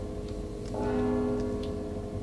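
A bell tolls in the stealth video game Mark of the Ninja: one sustained, ringing metallic tone starts about a third of the way in and hangs over a steady, noisy game background with faint ticking, no voices.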